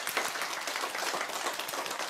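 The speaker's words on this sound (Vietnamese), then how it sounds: "nghe được thì vỗ tay đi cụ" An elderly man claps his hands in a quiet room, a faint run of soft, rapid claps continuing steadily without voices.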